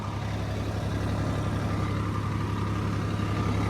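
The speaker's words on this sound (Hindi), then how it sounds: "अभी रोटर चला रहे हैं इस पर, बिल्कुल जरा जरा सा बेड में टच करके" A tractor pulling a rotavator across raised field beds, a loud steady diesel drone with a deep constant hum, close and continuous with no talk.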